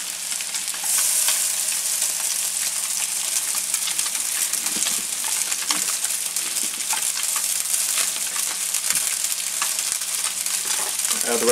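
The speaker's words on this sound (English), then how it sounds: "Then we're gonna add a pre-cooked linguine." Pre-cooked linguine lands in a hot pan, with a steady, bright sizzle of fat running throughout and scattered stirring scrapes and clinks, close and continuous with no talking.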